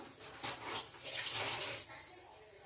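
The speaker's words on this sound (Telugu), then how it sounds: "నేను చేయి కడుక్కొని వచ్చేస్తున్నా." Hands being washed under a running tap, water splashing and hissing unevenly at a moderate, fairly quiet level for a few seconds, rising in the middle and fading toward the end.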